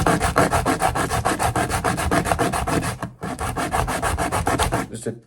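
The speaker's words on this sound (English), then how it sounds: "sand it down" A cut piece for a small model tanker being sanded by hand, fast, even back-and-forth rasping strokes up close and loud, with one brief break before the rubbing resumes and stops.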